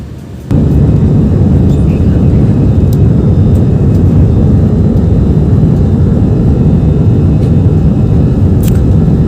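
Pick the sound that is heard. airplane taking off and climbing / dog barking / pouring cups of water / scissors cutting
airplane taking off and climbing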